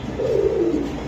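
A silver Giribaz pigeon, the breed also called Pakistani, gives one short, low, throaty coo, close up and alone.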